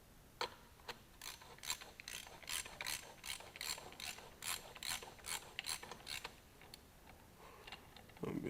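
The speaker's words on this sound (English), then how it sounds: "You got to get all these little bolts tightened up easy." A ratchet tightening small bolts during an overhaul of a JD machine, clicking in quick repeated bursts of pawl ticks with short pauses between strokes, close and fairly quiet.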